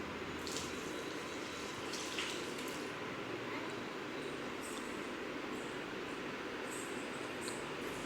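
Water poured over a spread-out bedsheet makes a steady, even rushing splash that holds unchanged from start to end, with faint higher chirps drifting over it.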